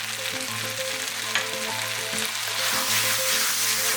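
Beef frying Kerala style with ground black pepper in a kadai, a dense continuous sizzle and crackle that swells slightly louder toward the end, close and loud, with soft stirring underneath and no talking.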